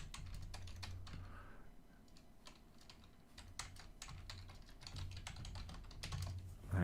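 Fingers type login credentials on a computer keyboard in a rapid, uneven patter of light key clicks, steady and fairly quiet, with a low background hum.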